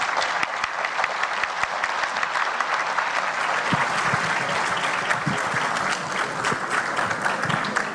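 An audience at a panel session applauds continuously, a dense, even wash of many hands clapping with occasional sharper claps standing out.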